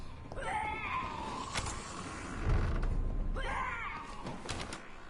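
Key turning in a door lock in the game Vampyr gives two drawn-out creaking, grinding mechanical passes with a dull thud between them, fairly loud against a dark ambient bed.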